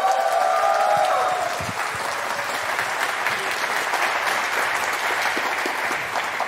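A crowd at a conference talk applauds continuously for several seconds. The clapping is steady and even, with faint crowd noise and a brief tone near the start.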